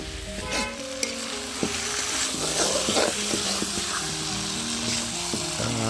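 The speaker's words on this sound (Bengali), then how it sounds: "কষানো চলছে" Meat curry masala being stirred and sautéed in a pan over a hot wood fire, with a steady sizzle and frying crackle, scattered scrapes and clinks from the spoon against the pan, and faint talk in the background.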